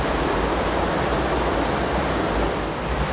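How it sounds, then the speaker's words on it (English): Water churned up in a cruise ship's wake rushes below a balcony as a steady, broad roar with no talking. "You can hear the wake."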